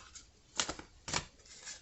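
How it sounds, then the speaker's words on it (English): Two quick, soft riffles of a card deck being shuffled nearby, faint and brief. "me give a couple more shuffles"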